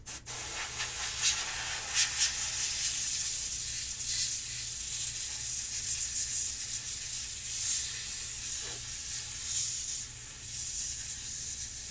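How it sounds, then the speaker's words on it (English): Compressed air sprays in a steady, quiet hiss to blow small particles off a football trading card, sustained throughout with faint rubbing in the background. "I'm going to try to spray out some of these little particles before I mag it up."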